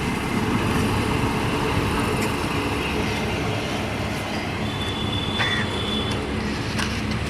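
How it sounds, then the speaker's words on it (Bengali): A railway inspection car passes at a level crossing near Plassey on the Sealdah–Lalgola line, a steady, loud rumble of rail and engine noise that holds for the whole stretch, with a faint high squeal near the end. "এখন রেলগেট পড়েছে, একটা ইঞ্জিন যাচ্ছে।"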